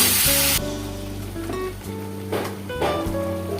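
Ground paste of onion, ginger, garlic, green chilli and cumin hits hot oil in a pan while cooking loitta fish, giving a loud initial sizzle that settles into steady frying crackle, with a few clinks and stirring bursts.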